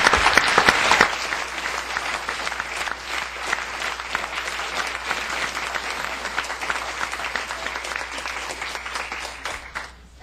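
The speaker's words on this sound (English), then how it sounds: "let's give Lorraine a big round of applause" Sustained applause from an audience at an educational law and social justice forum honoring Lorraine, steady and full for about ten seconds before tapering off at the end.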